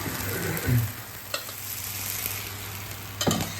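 Semolina and vegetable appam batter cooks in an appam pan, producing a continuous gentle sizzle with a couple of sharp metallic clinks.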